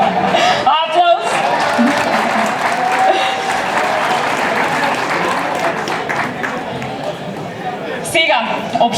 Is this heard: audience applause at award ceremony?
yes